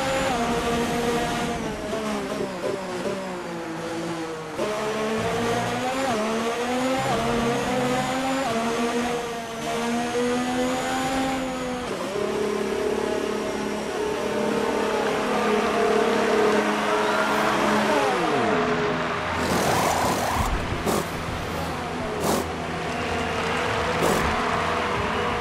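Formula 1 cars roar through the F1 2024 racing game, a loud, continuous engine whine rising and falling with gear shifts and acceleration, several engines overlapping across the stretch with brief roughness near the end.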